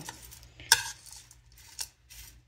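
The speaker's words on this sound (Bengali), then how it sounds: "এটাকে খুব ভালোভাবে মিক্স করে নিব।" A spoon mixing a peas chaat salad dressed with mustard oil, soft scraping and stirring in a bowl with a few sharp clinks, quiet and close.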